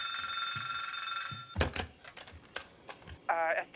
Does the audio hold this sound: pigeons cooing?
no